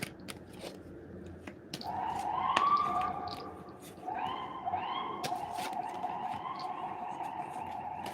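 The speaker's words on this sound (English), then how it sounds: "Hear them sirens?" Distant sirens wail and rise and fall in pitch over a background of scattered clicks and ticks, faint but clear throughout.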